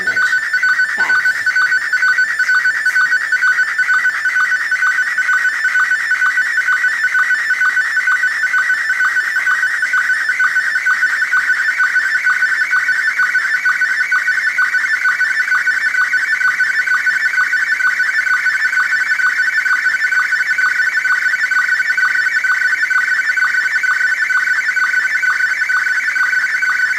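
A steady electronic tone signal carries an image line by line, an unbroken warbling whine with a rapid repeating pulse, loud and close, after a few brief chirps at the start and no voices throughout.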